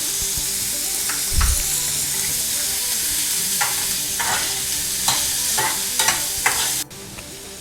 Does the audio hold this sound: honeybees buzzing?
no